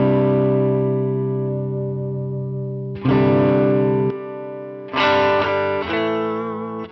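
Electric guitar through a Chase Bliss Automatone preamp set to a black panel tone, loud sustained chords ringing out with a few fresh strums, slightly gritty and roomy, no talking.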